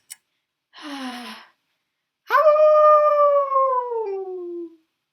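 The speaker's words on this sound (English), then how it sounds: "A coyote howled in the distance." A coyote howls in a read-aloud children's story, preceded by a short breathy whine, then one long, loud, clear howl that slowly falls in pitch before fading, with no speech over it.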